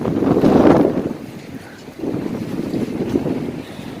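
Strong wind howls through a UAE sandstorm, blowing sand across the streets, heard as a loud, rough rumble that surges in gusts, eases briefly, then builds again, with no voices.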